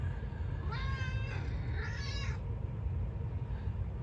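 A domestic cat meows twice in clear, close succession, the second call longer and rising, over a steady low background rumble.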